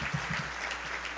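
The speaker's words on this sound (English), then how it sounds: "Let's give Kelsey another round of applause." An audience applauds at a school district event, with steady clapping that sounds fairly faint and distant and a few louder claps near the start.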